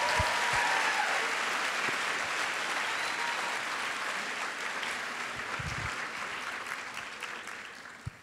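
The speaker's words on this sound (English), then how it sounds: "The biggest round of applause a sociologist has ever gotten." Audience at a BookCon book panel applauding a sociologist, a dense, sustained wash of clapping from a large crowd that holds steady for several seconds and then slowly fades.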